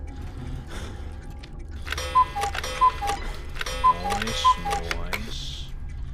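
A clock ticks in a video game under a constant low drone, joined by a few bright chime-like tones and a person talking over it.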